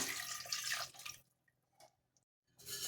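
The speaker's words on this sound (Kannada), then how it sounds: "ನೀರು ಆ್ಯಡ್ ಮಾಡೋಣ." Water pours into a pan of spiced raw jackfruit for biryani with a short rushing splash, then stops, leaving a few soft drips in near silence before the pouring resumes.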